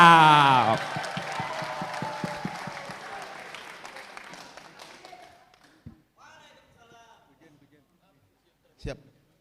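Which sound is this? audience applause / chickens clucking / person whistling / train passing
audience applause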